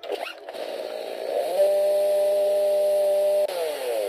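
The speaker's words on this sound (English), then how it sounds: "Terminator has chainsaw" A chainsaw in the video game Garry's Mod starts up, sputters briefly, then holds a loud steady buzzing whine for about two seconds before dropping and revving again.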